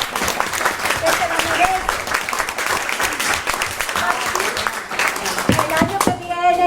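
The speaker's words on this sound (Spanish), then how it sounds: "Pues entonces vamos a darle un aplauso." A small audience at a literary gathering for a novel claps loudly and close by. The applause is mixed with voices and ends as someone starts talking near the end.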